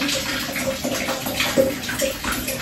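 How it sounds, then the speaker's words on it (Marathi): Hot water gushes steadily from a tap, a continuous close splashing stream with no talking. "इथे गरम पाणी सोडलेलं आहे खूप"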